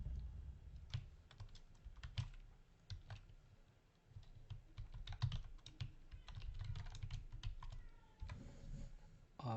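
Quick, irregular clicking of keys on a computer keyboard as a password is typed, close and fairly quiet over a low background rumble, with short pauses between bursts of keystrokes.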